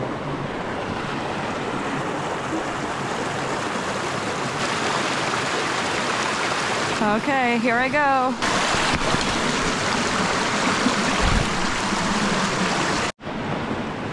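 Rushing creek water in Corte, Corsica, a steady loud flow as a person wades across it, with brief talk and wind buffeting the microphone.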